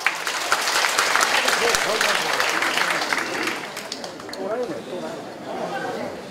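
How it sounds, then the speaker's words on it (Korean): Clapping by the audience at a Seoul apartment reconstruction association briefing: a burst of crowd applause that fades after a few seconds into murmuring voices and chatter. "박수 한번 치겠습니다."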